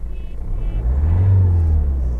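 A cold car engine idles with a deep, steady low rumble, loud and close, swelling slightly partway through with no voices.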